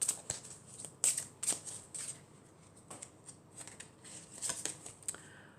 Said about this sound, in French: Alors ensuite, on va prendre encore une carte